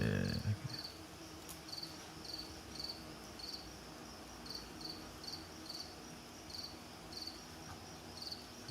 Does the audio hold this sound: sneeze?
no